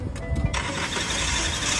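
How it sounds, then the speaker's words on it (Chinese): A car engine cranks and catches about halfway through, then runs with a steady, close mechanical roar; the car has a fault that makes a whistling noise from inside the engine, which stops when the oil filler cap is opened. "你看我现在打火"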